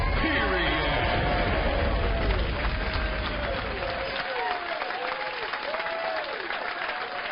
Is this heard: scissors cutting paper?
no